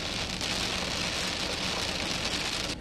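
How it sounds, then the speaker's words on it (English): Heavy rain and wind lash a highway during a storm along I-70, a dense, loud, unbroken roar of downpour filling the whole stretch with no voices. "heavy rains and wind made for a slow drive"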